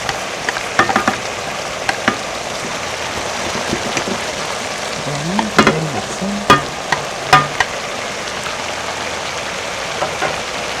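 Onions sizzling and frying in a pan with soy sauce while making burdock japchae, a steady crackling hiss with occasional stirring clatter and scrapes, close and continuous.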